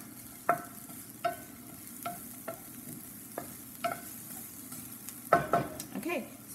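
Vegetables sizzle quietly in a frying pan while a utensil stirs and scrapes them, making sharp clinks at irregular intervals, with a busier clatter near the end.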